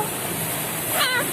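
A single short cat meow, rising and falling, close by over a faint hum of background noise.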